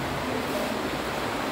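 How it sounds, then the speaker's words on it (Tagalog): Rain falling during Typhoon Enteng, a dense steady hiss of downpour filling the whole short moment with no voices. "Ulan siya oh."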